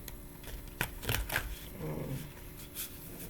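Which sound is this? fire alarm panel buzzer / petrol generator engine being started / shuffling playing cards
shuffling playing cards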